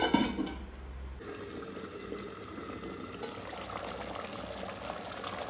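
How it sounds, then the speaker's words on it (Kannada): A pot of chicken curry bubbles and simmers steadily on the stove, a soft continuous gurgle with a brief louder clatter at the start, no voices. "ಹೀಗೆ ಇದನ್ನು ಬೇಯಲಿಕ್ಕೆ ಬಿಡೋದು ಒಂದು ಹತ್ತು ನಿಮಿಷದೊಳಗಿದು ಬೇಯ್ತದೆ"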